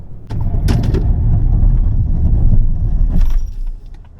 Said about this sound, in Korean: 이번에는 링컨 노틸러스 제동 성능 볼까요?